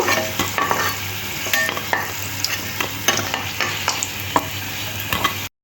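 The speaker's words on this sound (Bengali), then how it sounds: "বাকি যে চিকেনগুলো আছে একইভাবে আমি ভেজে নেব" Chicken fingers frying in hot oil for a saucy chicken finger snack, a steady close sizzle with repeated sharp crackles and stirring clicks throughout, no talking.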